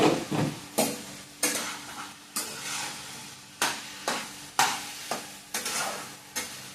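Four or five small onions frying in a pan, stirred with a spoon in repeated scraping bursts over a steady close sizzle, no voices.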